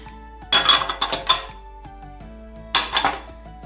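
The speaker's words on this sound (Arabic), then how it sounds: "كنخلطو الخليط كامل مع بعضياتو بهذا الشكل هذا" Eggs, five whole plus an extra yolk, are whisked into cheesecake batter in a bowl, heard as clustered bursts of metallic clinking and scraping against the bowl over quiet music.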